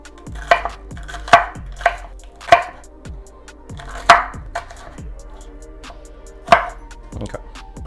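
Knife chopping a bell pepper into strips on a cutting board, a series of distinct, close, crisp chops at an uneven pace with short pauses between them.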